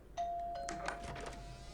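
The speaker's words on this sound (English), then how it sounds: "Ding dong." A doorbell rings once in the It Chapter 2 movie trailer, a clear two-tone chime that sounds close and stands alone with no talk over it.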